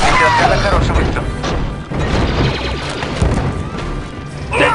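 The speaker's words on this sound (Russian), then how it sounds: "Огонь из тяжелых орудий, Дельта." Heavy weapons fire in the Star Wars: Republic Commando video game, loud repeated blasts and crashing impacts filling the scene, with battle chatter under the gunfire.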